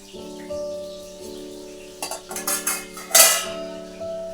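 Dishes and metal utensils clatter and clink while being washed, with sharp scattered knocks building into a busy burst of rattling over a steady background hum.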